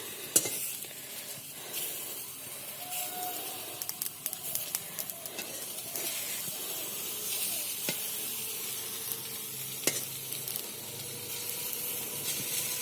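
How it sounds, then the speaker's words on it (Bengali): Eggplant fries in a pan with a steady, close sizzle and scattered clicks of stirring, while fish curry cooks nearby. "একদিকে বেগুন ভাজা হচ্ছে"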